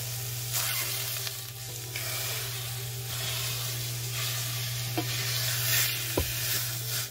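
Sausage fries in a 3-quart pot while a utensil stirs and scrapes the bottom. A steady close sizzle runs throughout, with occasional scraping knocks and a low hum underneath.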